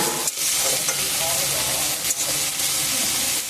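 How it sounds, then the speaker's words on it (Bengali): Large brinjal pieces fry alongside potatoes in hot oil, a dense continuous sizzle with occasional stirring scrapes, close and steady, while a voice speaks faintly underneath. "বেগুনটাও দিয়ে দিলাম আলুর সঙ্গে একটু ভালো করে বেগুনটাও ভেজে নেব"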